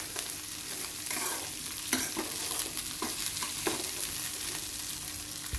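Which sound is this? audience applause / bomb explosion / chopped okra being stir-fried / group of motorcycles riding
chopped okra being stir-fried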